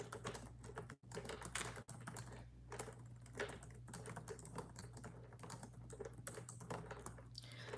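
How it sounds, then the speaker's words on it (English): Steady, rapid clicking of fingers typing on a computer keyboard, close by and fairly quiet, with a low hum in the background and no talking. "I'm typing in the chat right now for something"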